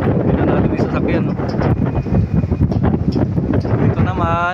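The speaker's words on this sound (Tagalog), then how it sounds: "Sobrang lakas ng hangin." Strong wind buffets the microphone with a loud, continuous broadband roar at a construction site near the Manila Bay reclamation project, and the gusts swell and fall without a break.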